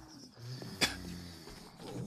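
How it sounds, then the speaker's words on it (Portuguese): A low, rumbling growl of a character's stomach in the game 7 Days to Die rolls along for a couple of seconds, with one sharp click cutting in near the middle. "esse barulho que você ouviu foi o estômago do meu personagem"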